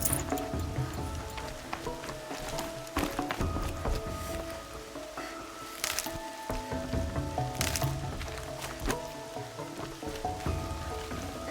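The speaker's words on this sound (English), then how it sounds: "Rain's not so bad." Steady rain falls in the video game Horizon Zero Dawn on PC, a continuous close hiss with scattered drips, splashes and soft thuds throughout.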